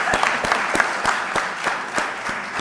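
Applause fills a city council chamber during a recognition, a brisk, fairly even clapping of a modest crowd that holds steady without any talking.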